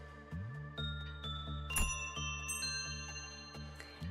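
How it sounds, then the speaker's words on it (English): Two bright, high-pitched bell rings from the video game Limbus Company chime a little apart and ring out over a low, steady musical drone with faint tinkling accents. "An invisible bell resounds too. 2 pleasant high-pitched rings."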